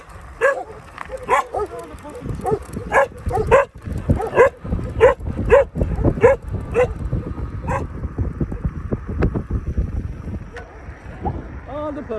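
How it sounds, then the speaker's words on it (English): Several dogs bark in a rapid, repeated burst early on while riding an Ecotric Cheetah fat tire e-bike along an old road, with wind noise and someone talking over it; the barking fades into steady road and wind rumble. "Look at all the puppies."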